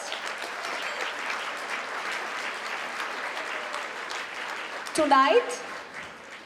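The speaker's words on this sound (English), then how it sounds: "A round of applause for the board of directors." An audience at a Greek community gala in Montreal applauds the board of directors, a steady wash of many hands clapping at moderate distance, with a brief louder clatter near the end.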